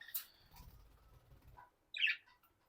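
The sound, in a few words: pet parrots chirping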